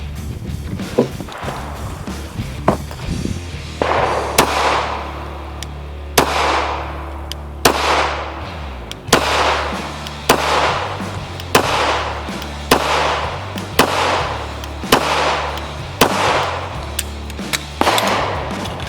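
A SIG P226 pistol fires Sellier & Bellot 124 grain 9mm rounds, about a dozen loud, sharp shots at a steady, unhurried pace with ringing decay after each.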